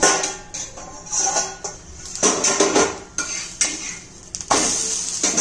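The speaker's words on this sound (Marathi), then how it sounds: "हे बघा आपण आता हे उलटून घेऊया" Bajra thalipeeth is turned over in a pan, with sharp metallic clanks and scrapes of a spatula against the pan in irregular bursts and a faint sizzle underneath, close and fairly loud.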